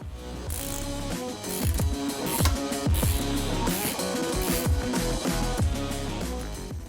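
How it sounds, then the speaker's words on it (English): An 18mm ratchet backs off the steering stabilizer nut on a Jeep Wrangler JK, a loud, close run of rapid ratcheting clicks in repeated bursts between short pauses, with no speech. "Place an 18mm wrench or ratchet on the back side of the stabilizer and remove the nut."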